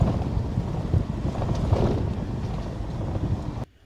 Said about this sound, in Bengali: ঠান্ডা হাওয়া আছে বেশ ভালো ঠান্ডা হাওয়া আছে